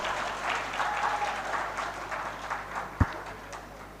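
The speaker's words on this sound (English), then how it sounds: "Be clapping." Audience applause at a youth conference in Uganda, a steady patter of many hands in a large room, fairly soft, with one sharp thump near the end.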